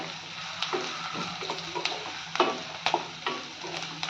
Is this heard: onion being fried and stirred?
yes